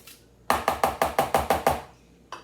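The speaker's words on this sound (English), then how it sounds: "You just take the spoon and you just get it off. Just scrape it off." A spoon scrapes lemon zest off in eight quick, evenly spaced strokes, close and crisp, then pauses before one more stroke begins.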